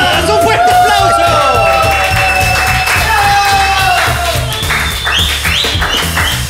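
A live studio audience on a Peruvian comedy radio show cheers, claps and shouts in a loud, continuous crowd roar with babble, with music-like tones running underneath.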